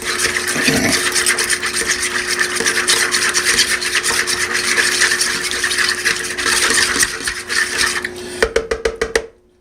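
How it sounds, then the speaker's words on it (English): Steady scraping and rubbing of a spoon working thick cinnamon roll dough around a bowl, continuous for several seconds, ending with a few light clinks. "And we're going to stir this together."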